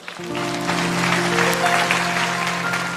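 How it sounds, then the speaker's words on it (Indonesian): Church congregation applauding in praise during a sermon, a sustained dense wash of clapping with a steady organ or keyboard tone held underneath throughout. "Kasih tepuk tangan untuk Tuhan."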